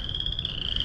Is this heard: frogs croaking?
yes